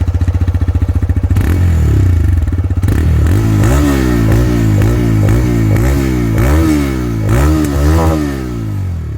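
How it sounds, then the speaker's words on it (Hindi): A TVS Raider 125cc motorcycle engine idles with a rapid putter, then revs up repeatedly in short throttle bursts, each rising and falling, loud and close. "बाइक का साउंड अगर आपने नहीं सुना तो पहले साउंड सुनो"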